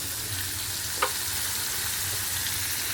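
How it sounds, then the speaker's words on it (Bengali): Rohu fish fry in oil in a pan, giving a constant close crackling sizzle broken by one sharp clink near the middle, with no talking. "তাই জন্য অল্প করে মাছ নিয়ে মাছটাকে ভেজে নিই ভালো করে"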